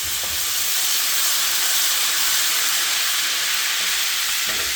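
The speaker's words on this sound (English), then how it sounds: "All right, in goes the garlic. Stir that around." Garlic sautéing in a hot pan, a steady loud sizzle and hiss that continues without a break for several seconds, with no talking over it.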